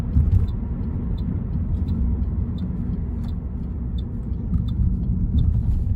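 A Toyota Auris 1.33 hums along as it drives and turns, a steady low engine and road rumble heard from inside the cabin, with faint regular ticking, likely the turn signal, above it.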